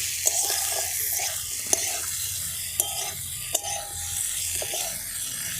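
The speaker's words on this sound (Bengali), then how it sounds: "দেওয়ার পর একে আমি আরেকটু নাড়তে থাকবো এবং একসঙ্গে কষে নেব ভালো করে" Prawns stirred with spice paste in a pan for a village-style prawn curry, a steady low sizzle under repeated scraping strokes of a spoon, with a few sharp clinks against the pan, close and moderately loud.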